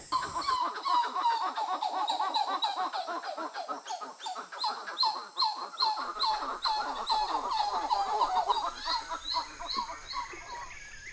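Birds in the Amazon rainforest call loudly in a dense, overlapping chorus of repeated honking, cackling shouts, continuous and close throughout.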